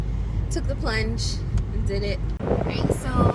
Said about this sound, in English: And we are driving right now.